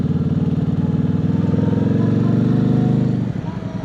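A KOVE 625V Lancer motorcycle runs in first gear, its engine a loud, steady throbbing drone close by that holds for a few seconds and then eases off near the end.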